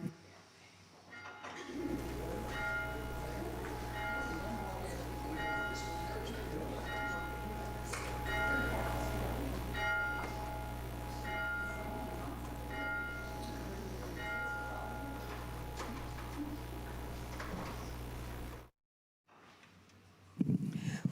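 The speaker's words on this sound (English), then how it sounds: "We begin our service with the ringing of the bell and the lighting of the Christ candle." A church bell rings to open a Sunday service at Unity of Kanawha Valley: repeated strokes with long, ringing harmonic tails over a low steady hum for about seventeen seconds, then cut to silence.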